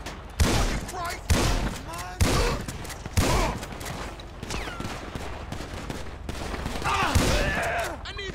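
Gunfire in Grand Theft Auto 5: a string of loud, sharp bursts recurring about once a second, with shouted voices talking between and over the shots.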